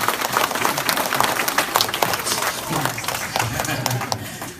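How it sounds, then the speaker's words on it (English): Applause for Michelle from a crowd at a celebration, a steady dense wash of clapping that runs throughout at fairly loud level, with voices mixed in underneath. "another round of applause for them, please"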